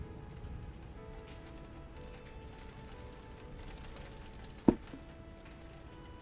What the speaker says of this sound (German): Draußen regnet's. Das hören wir ja gerade. Also in-game.